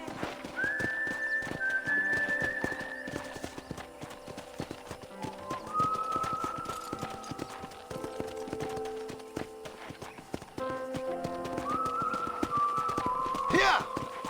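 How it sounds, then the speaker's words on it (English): Horse hooves clip-clop steadily while riding across a ranch in the video game Red Dead Redemption, with a whistle and a faint whinny, under background music and occasional talk. "I picked out a fine horse for you."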